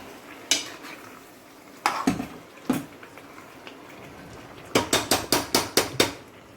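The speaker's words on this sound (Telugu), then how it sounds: "ఇలా మొత్తం మొత్తం కలుపుకోవాలి మంచిగా పైకి కొంచెం నూనె వచ్చేటట్టు." A metal spoon clatters against a pan while chicken curry mixture is stirred until oil rises to the top: scattered sharp clinks, then a quick run of seven rhythmic knocks near the end, close and fairly quiet.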